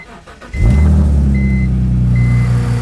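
A car engine cranks and catches about half a second in, then settles into a steady, close idle. The test start follows installing a battery kill switch, and no one speaks.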